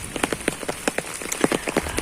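Heavy summer rain pours onto a garden in Kyiv region in June, a dense steady patter of drops with sharper individual splashes striking leaves and surfaces close by, with no voices.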